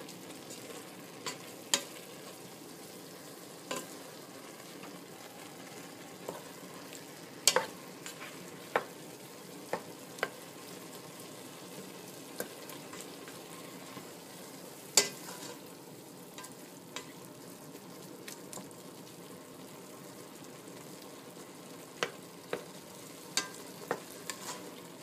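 Meat for empanada filling browning in a pan, a quiet continuous sizzle broken by scattered sharp clicks and scrapes of a utensil stirring, with no talk.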